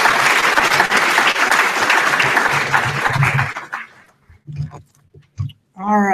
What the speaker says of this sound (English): Let's give Grace another round of applause.